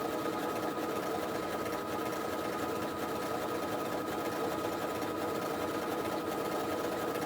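A sewing machine stitches steadily and continuously at close range, its motor hum and needle rhythm running evenly throughout with no talk.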